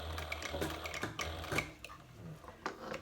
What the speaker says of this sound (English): Stitch it back and forth a few times.